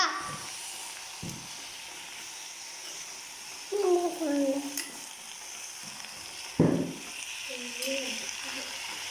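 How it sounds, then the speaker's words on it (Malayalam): Spinach leaf stir-fry is stirred in a pan: a low, steady sizzle is broken by scraping spatula strokes and a couple of sharp clatters against the metal. "എന്നിട്ട് നന്നായിട്ട് ഇളക്കി കൊടുക്കുക"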